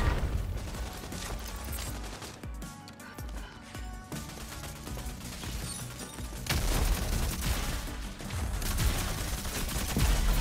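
Sniper gunfire in the video game Rogue Company, with sharp shots and mechanical bolt and reload clicks scattered over a busy in-game background at moderate level.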